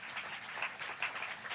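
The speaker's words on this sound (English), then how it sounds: "So let's give that a round of applause." Audience applause at a task force event on shutting down illicit storefronts: a brief, steady patter of many hands clapping, moderately loud and dense, with no voices over it.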